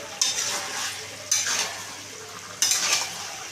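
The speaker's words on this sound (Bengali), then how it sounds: "আবারও আমি এটা ভালো করে কষিয়ে নিচ্ছি" Chicken curry with shahi garam masala sautés in a pan, a continuous close sizzle lifted by three distinct stirring strokes that scrape across the pan.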